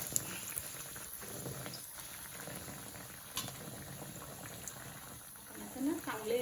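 Aloo bread pakoda fries in hot oil over medium heat, giving a faint, steady bubbling with soft crackles. A slight spatter rises near the end as the piece is moved.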